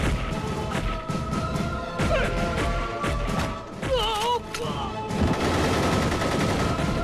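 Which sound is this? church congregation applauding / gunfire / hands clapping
gunfire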